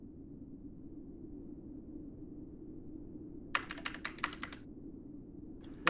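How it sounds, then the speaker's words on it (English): A computer keyboard clatters in a short burst of quick keystrokes over a low steady hum, then falls quiet before a few more taps at the end. "Type in chat some of what you notice there."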